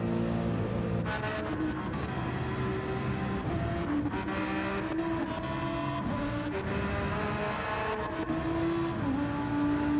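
A deep, rumbling AMG race car engine in a racing game at Monza revs up and down repeatedly through gear shifts, loud and continuous, with a burbly muscle-car tone.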